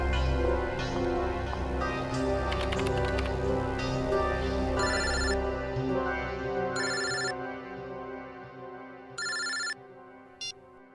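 Telephone ringing in a police procedural crime drama scene, with a few bright repeated ring bursts emerging after a busy stretch of background music and sound, the rings spaced apart and fairly clear.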